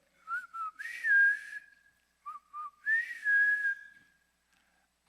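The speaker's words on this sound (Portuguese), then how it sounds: "aí eu dava um assobio" A person whistles two loud, clear rising phrases separated by a short pause, each sliding up and then holding a steady note, heard alone in a quiet room.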